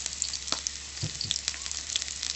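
Garlic and onion sauté in hot oil in a pan for vegetable adobo, a steady close sizzle with crackling pops and a brief soft stir, no talking.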